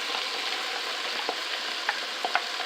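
Vegetables for goulash sizzle steadily in a pan, with a soft, even frying hiss and a few faint pops and taps near the end; no one speaks.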